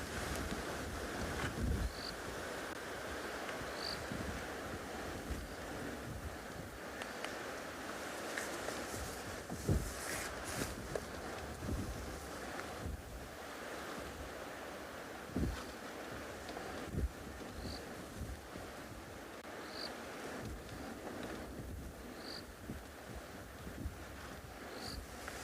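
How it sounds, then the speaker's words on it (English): Steady wind blowing outdoors at a wildlife reserve around sunset, a broad continuous rush with faint gusting swells and no voices. "The wind's picking up."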